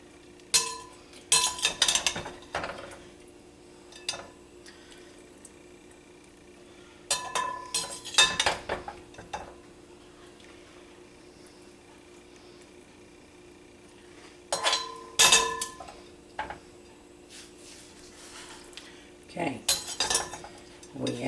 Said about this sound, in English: We're going to add the meat in, and I'm draining off anything else that drained off the meat.